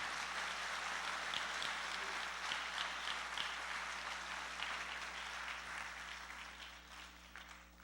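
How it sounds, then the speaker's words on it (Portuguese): Church congregation applauding during a Sunday evening service, a steady dense patter of clapping that fills the room and slowly thins toward the end. "Você pode aplaudir? Pode aplaudir, amor."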